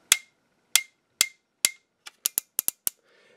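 A third-party TFC Ironshell Transformers Snaptrap figure's ratcheted plastic hinge gives ten sharp, close clicks, evenly spaced at first and then quicker in a rapid run, with no talking.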